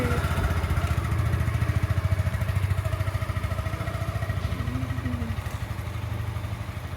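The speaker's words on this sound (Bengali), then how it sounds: "সৌমকে বাইকে করে নিয়ে চলে গেল" A motorcycle engine runs steadily at a low, throbbing idle, close by and fairly quiet, with no talking.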